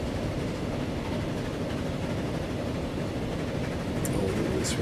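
Trains rolling along the tracks in the Transport Fever tycoon game: a steady, dense low rumble of rail cars with faint clicking, continuous and fairly near with no speech over it.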